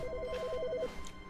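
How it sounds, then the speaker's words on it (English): Telephone ringing inside the video game The Stanley Parable: a rapid warbling electronic ring repeating in quick pulses for most of the moment, then stopping, over a low steady background hum. "Phone call."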